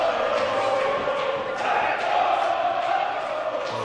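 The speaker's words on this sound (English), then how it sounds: "As the crowd is fired up for their silent night" A high school basketball crowd at a boys and girls doubleheader roars and cheers steadily before tip-off, a dense sustained wash of voices filling the gym with no clear breaks.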